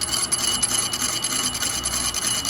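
A lathe makes a semi-finishing pass on a 6-inch tractor wheel spacer hub, giving a close, continuous scraping hiss of metal cutting that holds steady throughout.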